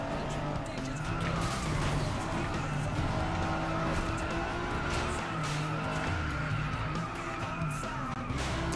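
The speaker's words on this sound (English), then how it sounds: "You should hear the wheels squealing right now." Racing car tires squealing in the video game Flatout Ultimate Carnage, a steady loud engine roar with skidding tire noise running throughout, while a voice talks over it.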